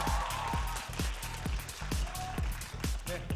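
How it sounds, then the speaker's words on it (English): Audience at an LCK Summer League of Legends esports match applauding MVPs Faker and Bang of SK Telecom T1, a loud spread of clapping over strong low thumps. "Give them a big round of applause."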